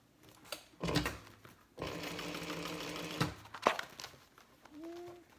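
A sewing machine top stitches the exterior of a printed fabric bag in a fast, moderately close run of about a second and a half, between short handling noises and brief stops.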